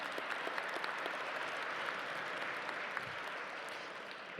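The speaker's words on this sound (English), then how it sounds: "By the way, you don't have to clap" Gala audience in a large hall breaks into sustained applause, dense steady clapping that holds level for several seconds before easing slightly at the end.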